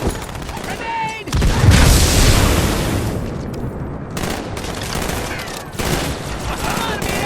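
Grenade blast and gunfire in Halo 2 Anniversary: a loud booming explosion with a rolling rumble, then bursts of rapid firing, with brief voices before and between the shots.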